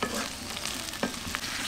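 Onion, garlic and chili fry in a pan in a village kitchen, a dense continuous sizzle with a few soft stirring scrapes, close and steady, no talking.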